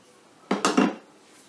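Knives and cutlery rattle and clink as someone rummages through them, three quick metallic clatters close by within about half a second, then quiet.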